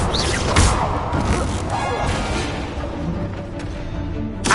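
Fire spell effects from Hogwarts Legacy, played on PS5, burst out in quick succession. Crashing, whooshing impacts come close and loud, with sharp hits near the start and end.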